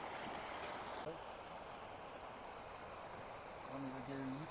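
A stream flowing beside a halt on the Narmada parikrama pilgrimage walk, a steady, even rush of water throughout, with a voice briefly heard near the end.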